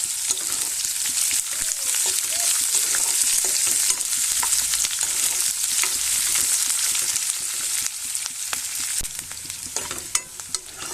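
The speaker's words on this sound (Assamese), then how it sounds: "পিঁয়াজখিনি ৰঙা কৰি ভাজি ল'ম ৰচুনৰ লগত।" A whole large chopped onion fries with garlic and dried chili in a pan, giving a dense, constant sizzle with scraping stir strokes up close and no voices.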